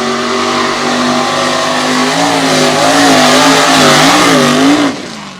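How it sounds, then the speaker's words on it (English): A 1946 Chevy drag car with a 447 small-block Chevy and Powerglide transmission makes a loud, close run in an unlimited-class drag race, its engine roaring and climbing steadily in pitch for about five seconds before easing off. "This is a 1946 Chevy with a 447 Chevy small block, a Power Glide transmission."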